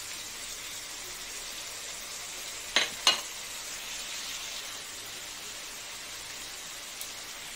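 Fish masala with ginger and spices frying in a pan, a steady soft sizzle with two quick scraping stirs of a spoon against the pan partway through.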